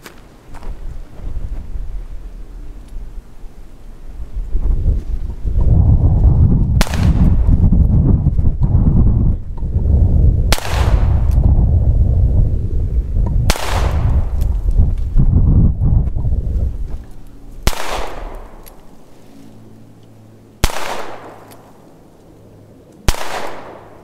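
Ruger Security Six .357 Magnum revolver loaded with 158-grain .38 Special rounds, fired outdoors: six sharp, loud reports spaced several seconds apart, heard over steady wind noise.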